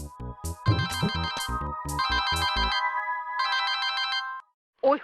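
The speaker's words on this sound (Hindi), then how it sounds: "ओए हुई, फोन आ रहा है।" A phone ringtone plays a bright electronic melody in repeating phrases, then stops; a brief voice follows after a short silence.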